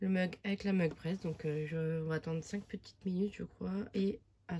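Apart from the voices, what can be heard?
No everyday noise stands out behind the speech.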